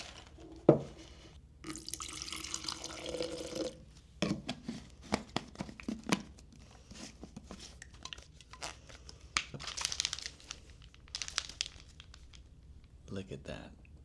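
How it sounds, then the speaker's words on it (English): Water runs into a soap mixture being stirred, with splashy, bubbly bursts of pouring and sloshing in uneven stretches, close to the mic, and a voice talking intermittently throughout. "Now I'm just gonna add some water."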